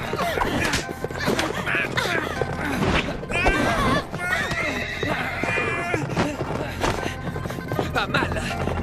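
A horse whinnies and snorts amid hoofbeats and a scuffle in a medieval-style film scene, the neighs loud and close over rustling action and shouting.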